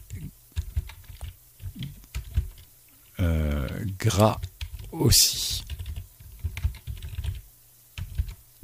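Computer keyboard typing with rapid clicking keys, close and fairly loud, running in bursts under and between a man's speech.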